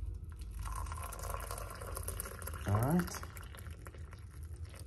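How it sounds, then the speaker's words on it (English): Hot water is poured into a glass cup for green tea, a brief rising gurgling fill near the middle of the clip over a steady background hiss, with a voice speaking briefly. "I'm going to pour some hot water."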